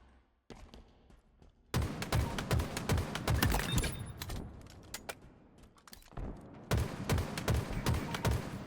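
Gunfire in a competitive Halo Rec League match: dense, rapid bursts of weapon fire crackle almost continuously, loud and close, with brief lulls between volleys.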